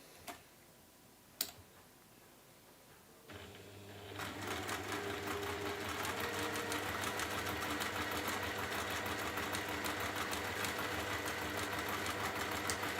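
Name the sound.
sewing machine sewing quilt fabric sides down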